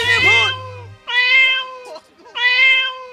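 A small cat gives three high, drawn-out meows in close succession, each clear and near, with short pauses between them.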